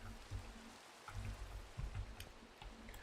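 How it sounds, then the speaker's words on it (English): Rain falls steadily in a survival video game, a soft continuous patter with low irregular thumps mixed in. "Guess it's raining."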